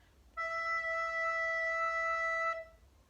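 A recorder holds a single clear E for four counts, a steady pure tone lasting about two seconds with faint room noise before and after.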